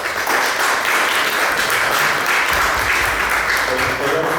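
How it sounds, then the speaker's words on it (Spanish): Sustained, dense applause from an audience at a reading discussion event, steady and fairly loud throughout, with a few voices mixed in underneath. "Mis aplausos para ustedes"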